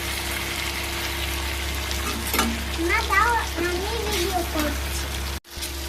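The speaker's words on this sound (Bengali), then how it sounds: "এই দেখো মাটনটাকে আমি সিমে রেখে না সুন্দরভাবে কষিয়ে নিচ্ছি" Mutton sautés in a pan on low heat for a curry, making a steady close sizzle with occasional stirring scrapes and a brief voice partway through, ending in a short cut.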